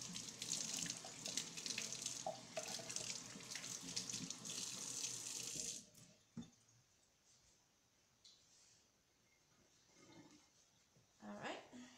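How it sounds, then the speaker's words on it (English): Tap water runs steadily from a faucet into a sink during hand washing for about six seconds, then shuts off, leaving faint clinks and small splashes afterward. "let me wash my hands again"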